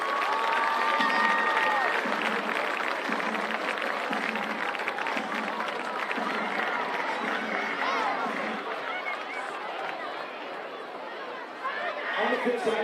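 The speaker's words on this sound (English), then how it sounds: "Please, let's give a round of applause to all of our many generous sponsors." A crowd applauds its sponsors at a Staples varsity football game against Conard, with steady, loud clapping and cheering throughout and lively chatter mixed in, swelling again near the end.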